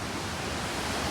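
An Icelandic waterfall roars in a loud, unbroken wash of rushing water, filling the whole short moment with no voices.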